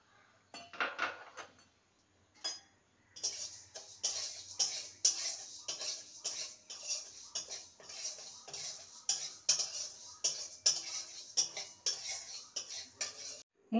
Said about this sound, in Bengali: মুগ ডালটাকে প্রথমে শুকনো খোলায় ভেজে নেব